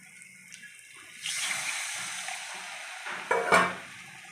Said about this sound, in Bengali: এবার আমি জল দেবো।